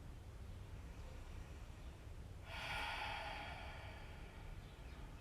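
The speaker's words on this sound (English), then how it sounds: "A couple of deep breaths in and out." One deep breath rises as a soft, airy inhale and exhale over faint background hiss, close and quiet, with no talking.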